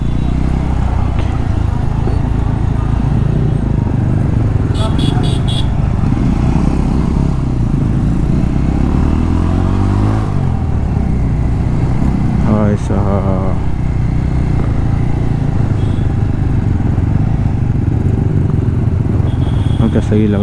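Motorcycles of a riders' gang, lined up together, give a steady low engine rumble and idle throughout, with people talking over the noise.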